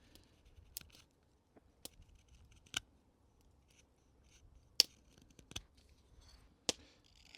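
A knife carves big chunks off a cherry wood spoon blank by a campfire, giving sparse, sharp cuts and scrapes at irregular intervals over a quiet background.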